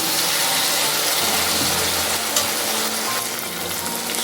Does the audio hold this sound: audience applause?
no